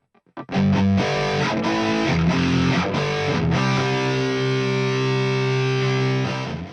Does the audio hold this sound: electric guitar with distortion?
yes